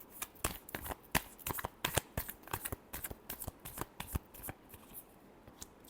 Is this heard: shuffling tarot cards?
yes